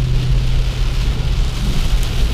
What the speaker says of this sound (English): It's really raining pretty damn hard right here.